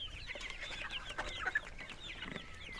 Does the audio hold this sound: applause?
no